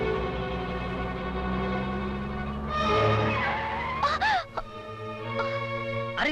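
A car skids as it is driven too fast, its tires squealing sharply in a brief, loud burst against steady background music, heard in a Tamil comedy film scene.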